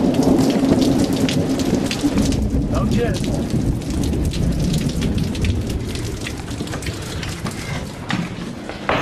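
A heavy thunderstorm pounds outside the old Villisca house with a loud, constant downpour and low rumbling thunder, while a voice speaks briefly over it.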